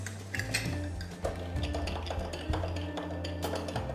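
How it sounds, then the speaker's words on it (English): Big ice cubes clink and tap against a mixing glass as a White Negroni is stirred, a faint irregular clatter of light knocks over several seconds. "Give that a little stir"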